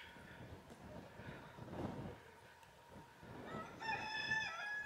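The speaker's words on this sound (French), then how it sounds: "The rooster is still alive." A rooster crows at a distance on a rural French property, a faint drawn-out call rising near the end over quiet outdoor background noise.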